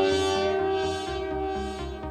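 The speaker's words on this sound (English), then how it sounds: "I can show you on this Jamstik using this classic country blues kind of bend." A Jamstik MIDI guitar sounds a close, sustained country blues string bend, with a held note ringing steadily beneath the bent top note. No talk.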